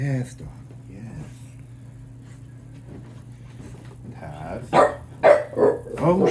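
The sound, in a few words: dog barking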